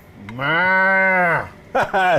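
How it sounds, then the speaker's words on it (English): A cow moos once, loud and close, in a long, steady, droning low call about a second long. Brief bursts of other sound follow after it ends. "Some cow."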